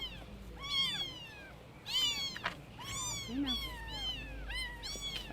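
Small kittens at a rescue give a quick run of high, thin meows, several overlapping and close by, with faint background noise between the cries.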